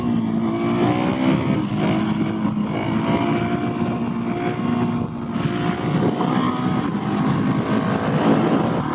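A Husqvarna 701SM single-cylinder motorcycle roars steadily while the rider pulls wheelies, a loud, close, continuous engine drone with wind noise and no talking.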